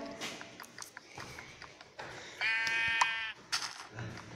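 A sheep in the video game Minecraft bleats once in a drawn-out, wavering call amid light clicks and tapping, fairly close and clear.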